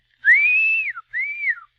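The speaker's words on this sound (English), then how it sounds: "I'll whistle like this." A person whistles two clear notes, a long rising-and-falling tone followed by a shorter one, close by with no other sound.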